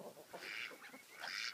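Backyard hens, a mix of Delawares and Rhode Island Reds, give off a couple of bright, squawking clucks over steady low yard noise, fairly close and moderately loud.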